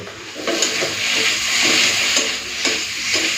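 Malabar spinach (pui shak) frying in a pan: a loud, close sizzle with periodic scraping bursts as the greens are stirred, no talking.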